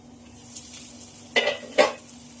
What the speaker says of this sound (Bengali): মশলা কিন্তু খুব ভালো করে ভাজা হয়ে গেছে, তেল ছেড়ে দিয়েছে